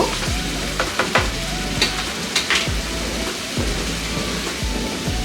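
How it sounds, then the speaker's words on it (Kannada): Flattened rice (poha) hits a hot pan for crispy masala avalakki and gets stir-fried, a low steady sizzle with periodic scraping and clinking of the spatula against the pan. "ಈಗ ಇದಕ್ಕೆ ನಾವು ಆಲ್ರೆಡಿ ಮಿಕ್ಸ್ ಮಾಡಿ ಇಟ್ಕೊಂಡಿರುವಂಥ ಅವಲಕ್ಕಿನ ಹಾಕ್ಕೊಳ್ಬೇಕು"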